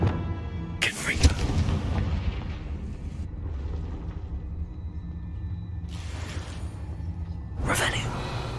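Confringo fire spell blasts from Hogwarts Legacy gameplay: sharp, loud bursts near the start and again later, each with a crackling fiery boom over a constant rumbling game background, while voices carry on underneath.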